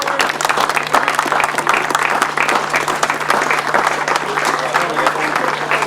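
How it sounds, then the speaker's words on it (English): A crowd at the 2005 International Lincolnshire Poacher grasstrack meeting claps for a former Masters sidecar champion. The applause is loud and dense, holding steady for the whole stretch over a faint constant hum. "Could we have a big round of applause?"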